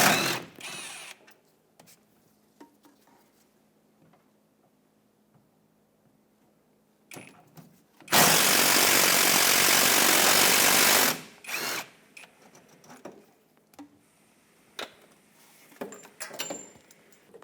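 Power tool whirring in one loud sustained burst of about three seconds while removing a 10mm shock bolt on a 2004-2012 Chevrolet Colorado, surrounded by quieter clanks and handling noises.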